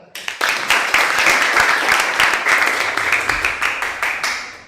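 Classroom audience applause breaking out sharply and holding as a dense, steady patter of many hands for several seconds, fading slightly toward the end.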